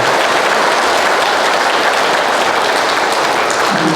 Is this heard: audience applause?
yes